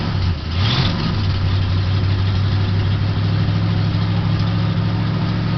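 A 1978 Mercury Cougar Brougham sits idling after a cold start, its loud engine lobbing slightly, with a brief rev at the start settling into a steady, close, rumbling idle.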